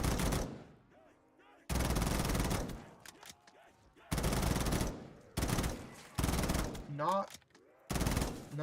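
M4 assault rifle in Black Ops 3 custom Zombies firing several loud, close full-auto bursts separated by short pauses, with a voice and faint game sounds in the gaps.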